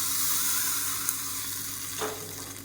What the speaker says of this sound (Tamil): இப்போ பாருங்கள் எப்பயும் போல் கடுகு உளுந்து வரமிளகா கருவேப்பிலை பெருங்காயம் போட்டு தாளிச்சிருக்கேன் இது அப்படியே இதில் சேர்த்துக்கலாம்